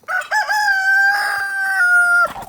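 A backyard rooster crows one long, loud, drawn-out call close by, with no talking over it.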